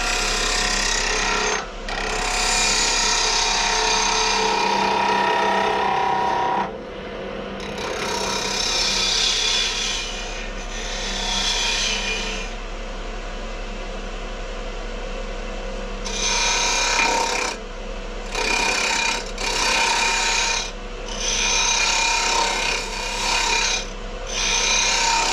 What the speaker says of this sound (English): For clearing waste, I usually use a bowl gouge.